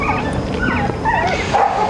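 A dog at a group training course with several breeds, including husky, golden retriever and Malinois, whimpers and lets out high yips. The thin, wavering cries repeat across a steady background.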